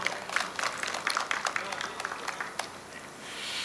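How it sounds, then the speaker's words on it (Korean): Audience at an outdoor groundbreaking ceremony for a subway line extension applauds a district head, scattered claps that thin out over a few seconds while a voice talks over them. "이재현 서구청장님께 큰 박수 부탁드립니다"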